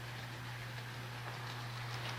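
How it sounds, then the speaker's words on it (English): A model Amtrak train runs on a home layout, producing a steady low hum with faint clicking from the rails, quiet and continuous, with no one speaking. "that's my Amtrak train moving behind it"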